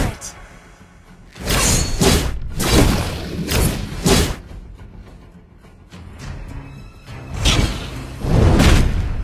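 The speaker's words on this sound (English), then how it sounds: "Your team destroyed a turret." A turret being destroyed in a MOBA video game, heard as a series of heavy thuds and crashing impacts in clustered bursts, loud and close, mixed with game effects.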